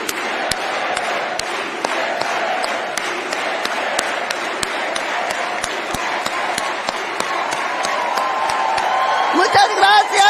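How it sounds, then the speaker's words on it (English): A large convention crowd claps in an organized steady rhythm, sharp unison hits evenly spaced, while voices chant along beneath; the clapping stays loud throughout and swells with cheering near the end. "Let's all do it together with an organized clap"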